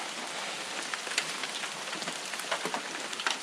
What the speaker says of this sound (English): take shelter from the rain.